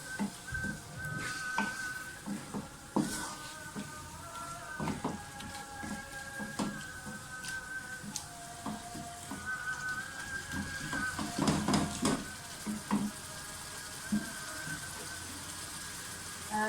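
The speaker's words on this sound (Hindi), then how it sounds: "अब सारे पिसे हुए मसाले डाल दें और बुनाई करें" Minced meat keema with ground spices frying in a pan, a soft continuous sizzle with repeated scraping and clinking of a spoon stirring close by.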